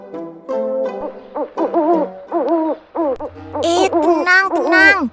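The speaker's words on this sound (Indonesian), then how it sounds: "segerombolan burung hantu yang diletakkan di tempat tertutup lengkap dengan pendingin" A group of owls in a closed, air-conditioned enclosure hoot and screech in a rapid, overlapping series, loud and close, with a low hum running underneath.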